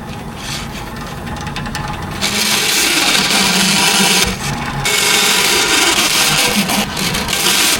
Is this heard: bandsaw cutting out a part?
yes